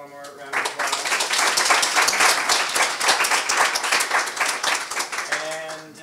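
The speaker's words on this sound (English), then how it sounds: "let's give Rachael one more round of applause" An audience claps loudly after a talk by speaker Rachael Meager at an academic session, a dense round of applause swelling quickly then thinning toward the end.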